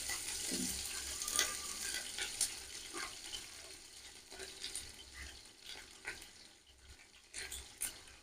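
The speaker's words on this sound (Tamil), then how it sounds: "வெங்காயம் கொஞ்சம் நல்லா வதங்கணும்." Onions sauté in a pan for mutton biryani, giving a soft, uneven sizzle broken by scattered clicks and scrapes of stirring, fairly quiet and close, with no talking.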